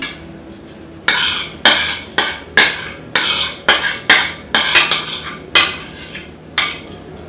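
Cutlery scraping and clinking against a dish while cauliflower rice is plated, a steady run of about a dozen sharp close metallic strikes and scrapes at a brisk irregular rhythm, with no talking.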